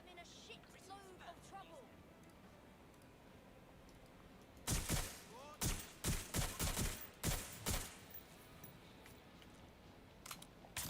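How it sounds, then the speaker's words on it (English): Video game gunfire from enemies firing back comes in a cluster of loud, sharp rapid bursts over a few seconds, with quieter clicks before and after. "They just kind of pop out of nowhere and start shooting back at me."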